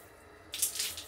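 Water bursts on and runs from a shower heated by biogas, a sudden hissing spray rising from quiet room tone, close and moderately loud, with no voices.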